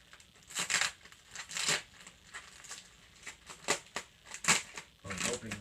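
Close-up bursts of tearing and crinkling as a package of NFL jerseys is ripped open by hand, several quick rips in irregular rhythm with brief pauses between.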